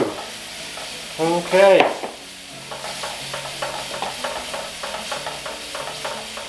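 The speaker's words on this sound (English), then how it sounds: "Constantly whipping as you turn your stock into your roux." Stock being whisked into a sizzling roux on a stove, a loud hissing sizzle burst as the liquid hits the hot pan, then a steady lower sizzle with rhythmic scraping whisk strokes; one brief spoken word.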